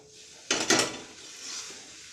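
Chicken Kolhapuri masala being stir-fried in a pan: a short, sharp burst of a utensil scraping and stirring, then a softer sizzle fading under light clatter.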